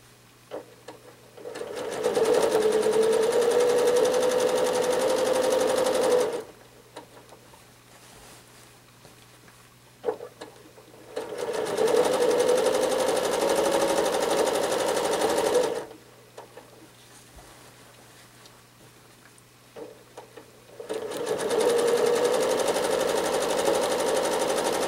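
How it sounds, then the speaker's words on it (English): A sewing machine runs in three long, steady bursts of rapid stitching, separated by quiet pauses, while free motion quilting a wiggly line through a spiral ornament design. "The longest part is simply stitching this wiggly line down through the area and getting it completely filled."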